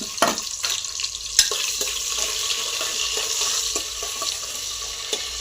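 Cumin and chopped onion sizzle in hot oil, a steady bright frying hiss with scattered pops and clicks, close and fairly loud, with no talking.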